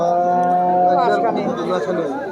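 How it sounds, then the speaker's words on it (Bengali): Cows lowing at the Deohata cattle market, a long drawn-out moo close by, with crowd chatter and voices mixed underneath. "এখানে একটা সাদা সুন্দর গরু দেখতে পাচ্ছি, পাশাপাশি আরও অনেক সুন্দর সুন্দর গরু দেখতে পাচ্ছি।"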